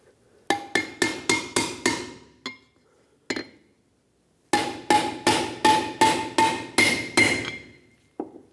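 Bearing race on a Ford E-350 Super Duty front wheel hub being driven in with an installer and hammer: two runs of sharp, ringing metallic blows, about five then eight evenly spaced, close and loud, with short pauses.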